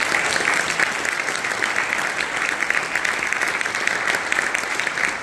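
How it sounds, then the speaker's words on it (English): An audience applauds panel guests after a discussion event, with dense, steady clapping from many hands that stays loud and close throughout and no voices on top. "I think they all deserve a big round of applause."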